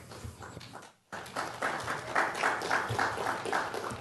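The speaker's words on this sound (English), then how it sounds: "wasn't expecting applause, but thank you." An audience breaks into applause during a public presentation on affordable investment. After a brief pause, steady, dense clapping swells and continues evenly to the end.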